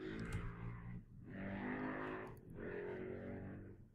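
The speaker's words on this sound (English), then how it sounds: "Stupid noisy cars." Cars pass by outside in loud, broad engine sweeps, three waves of road noise rising and fading one after another over a few seconds, with no talking.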